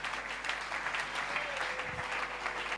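A church congregation claps together in sustained, steady applause heard at moderate distance, filling the whole moment without a break until it cuts off.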